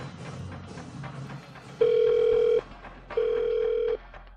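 An unanswered phone call rings out: two long steady tones of the ringback signal, each lasting under a second with a short gap between them, clear and close after a moment of faint background noise.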